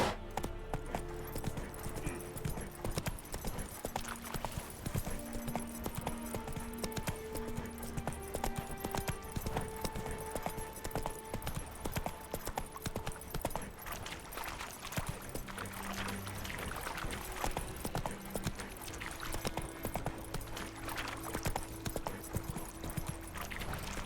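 Horse hooves clip-clop at a steady gallop rhythm in The Witcher video game, continuous and fairly prominent over game music, with no talking.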